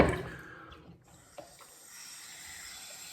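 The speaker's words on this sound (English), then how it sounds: "very hot water, rinse my blade" Hot water runs from a tap to rinse a straight razor blade, a steady close hiss of flowing water after a louder initial splash, with a small clink partway through.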